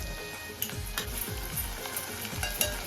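Chopped onion and ginger-garlic paste sizzle and crackle in a hot pan, a steady close frying hiss with repeated scraping stirs of a spoon.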